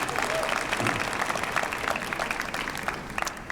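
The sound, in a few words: audience applause thanking family and friends at commencement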